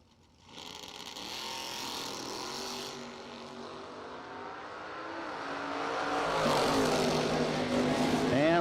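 An 83 Cutlass with a Chevy engine and a 2004 Corvette roadster launch in a door-slammer drag race, their engines roaring and climbing in pitch, growing louder toward the end with commentary running over them.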